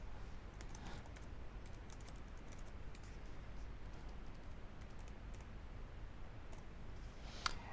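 A computer mouse and keyboard give a scatter of faint, quick clicks and taps over a steady low hum, with one sharper click near the end and no talk.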